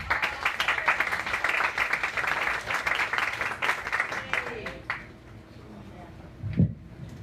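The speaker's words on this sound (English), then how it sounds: "Everybody, big round of applause for my great friend, Eric Weber." A comedy club audience gives a lively round of applause under a host's amplified talking. The dense clapping fades out after about five seconds, leaving room noise and a brief thump.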